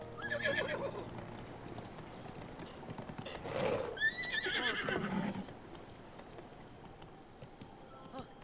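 A horse in the video game Zelda: Breath of the Wild gives a loud whinny, then its hooves clip-clop in a steady rhythm under ambient game music, with a second neigh in the middle.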